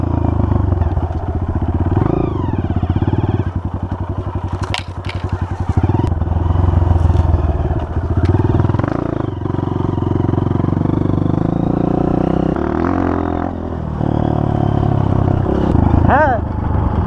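A dirt motorcycle engine drones steadily nearby, revving and clattering over rough ground on a trail, with people talking in Portuguese over it and occasional rattles and scrapes.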